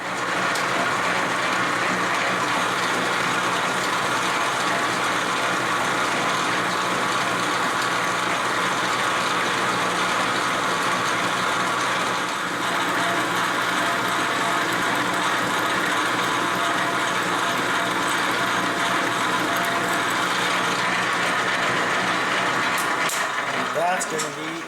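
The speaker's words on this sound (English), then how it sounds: "Alright, it's time to cut some threads. I'm going 20 threads per inch here." A metal lathe cutting 20-threads-per-inch threads as part of building an end mill grinding fixture: a steady, continuous machining drone with mechanical whine and rattle runs close and loud, unbroken, with no speech over it.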